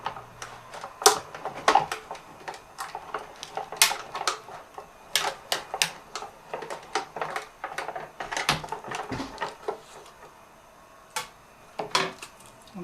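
A Cuttlebug die-cutting and embossing machine is cranked through with a lace template die, giving a run of irregular close clicks and ratcheting taps over about thirteen seconds, with brief pauses.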